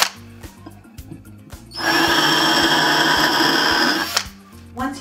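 Power drill boring into a wooden trunk of salvaged architectural material, a loud steady whine running about two seconds amid lighter handling clatter before and after.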